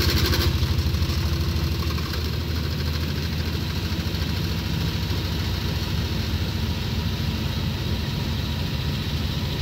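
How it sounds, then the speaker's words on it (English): A 1960 Frigidaire Custom Imperial Multimatic top-loading washer spins at high speed, up to 850 RPM, giving a steady, loud, continuous mechanical hum and rumble that holds level throughout with no voices. "it goes up to 850 RPM. While it's no Unimatic, it is still the fastest spinning top loader"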